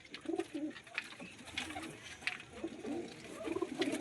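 Desi pigeons kept in a loft coo in soft, low, repeated bursts, with faint fluttering and background rustle and no one speaking.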